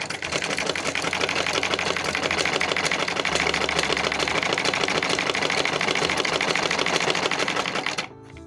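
A sewing machine runs steadily while stitching cloth, a loud, fast, continuous mechanical clatter close by for about eight seconds before stopping.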